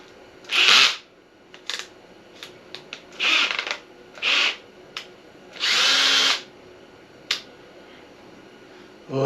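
A power drill with a 3/4 inch bit whirs in several short bursts, each a second or so, separated by pauses with small clicks and handling sounds, close by.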